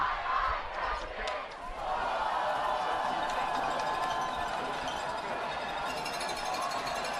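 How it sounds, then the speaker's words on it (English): A high school football crowd murmurs and stirs in the stands before the kickoff, a steady, broad roar with a few louder thumps and shouts early on. "Crowd getting up for the kickoff"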